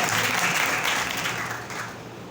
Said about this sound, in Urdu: زوردار تالیاں خدا کے لیے بجا دیں